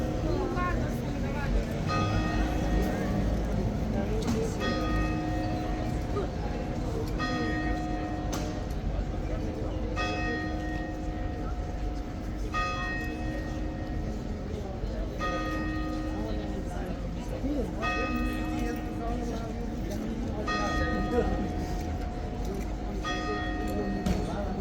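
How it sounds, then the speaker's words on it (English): A bell rings repeatedly at a steady, regular pace, each clear metallic strike sustaining under a continuous background hum and faint outdoor bustle with occasional voices. "Never ever tire of the sound of that bell."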